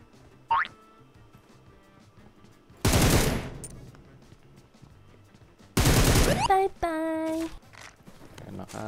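Bursts of automatic gunfire from a shooter video game, with a short volley, then two loud sustained rattles, followed by bright game alert tones.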